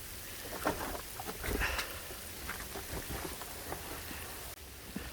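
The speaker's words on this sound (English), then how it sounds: "Kind of a freezing rain" Freezing rain and hail fall outdoors as a steady hiss of dense, fine pattering with scattered sharper ticks and a few low thumps, with no speech.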